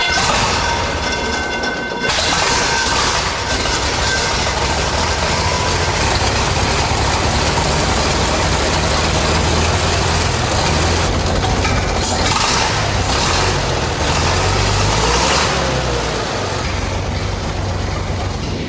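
A classic car with its choke set cranks into life after a brief quiet moment, then runs as a loud, steady, close engine drone for the rest of the time, with no voices.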